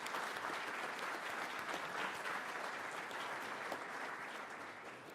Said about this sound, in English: So round of applause for our organizing group.